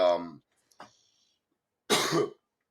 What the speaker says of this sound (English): You're coughing away.